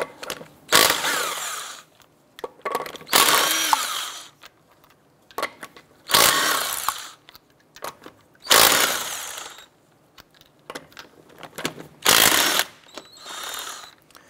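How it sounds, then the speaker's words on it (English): A 19mm socket on a ratchet-type tool spins off lug nuts from a 2006-2013 Chevrolet Impala front wheel, loud close whirring bursts of about a second each, five or six of them, separated by short quiet pauses. "Using a 19mm socket, we're going to go ahead and remove our lug nuts."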